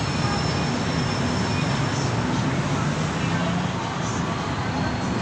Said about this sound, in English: there's the sky train. So I'm right on the sky train there.